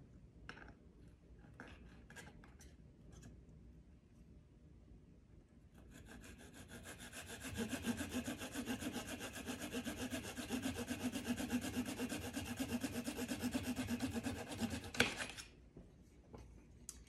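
A hand saw cuts through wood in a steady back-and-forth rhythm, close and moderately loud, running for about nine seconds before stopping, preceded by a few faint taps and handling noises.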